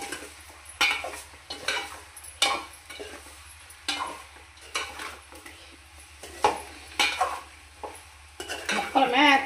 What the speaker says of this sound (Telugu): ఇవన్నీ వేసి ఇలా ఒకసారి తిప్పుకుందాం.